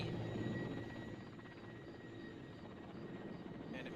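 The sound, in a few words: helicopter flying overhead in video game Arma 2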